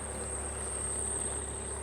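An alternator belt on an idling VW Passat 2.0d diesel, standing in the cold, gives a steady, thin high-pitched whistle that holds unbroken throughout, with the low hum of the idling engine underneath and no talking.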